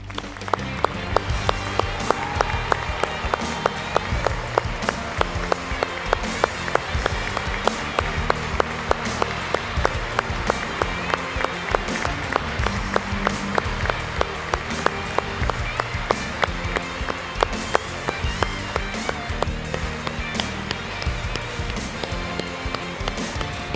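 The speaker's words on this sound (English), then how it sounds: "Please give a warm round of applause for the induction of Robert K." A large audience gives sustained applause at a YMCA Hall of Fame induction ceremony, the dense clapping holding steady and loud with music underneath.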